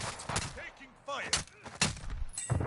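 Gunfire in the video game Call of Duty: Warzone, several short bursts of shots mixed with in-game speech and tonal effects, moderately loud and cluttered over under three seconds.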